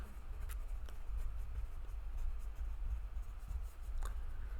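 Pen or pencil writing by hand on paper, soft scratchy strokes with a few sharper taps and ticks, faint and close, no talk.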